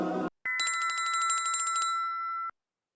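A telephone bell rings in a rapid, even trill for about two seconds, loud and alone, just after a brief burst of speech.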